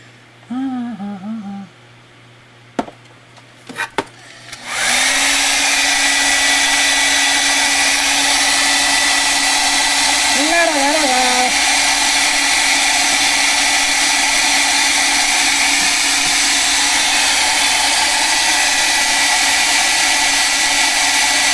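A hair dryer switches on after a few quiet seconds of brief talk and handling, then blows in a steady, loud, continuous whoosh while drying artwork, holding without pause to the end.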